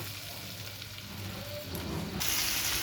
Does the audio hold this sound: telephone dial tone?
no